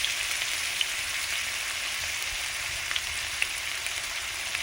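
Small cut potato pieces fry in hot oil with salt and turmeric, a loud, steady, close sizzle with occasional faint pops and no voices.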